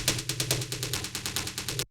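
A dark techno tom drum pattern run through a saturator, rapid evenly spaced 16th-note hits sounding crunchy, dense and distorted with a thick low end, stopping sharply after about two seconds.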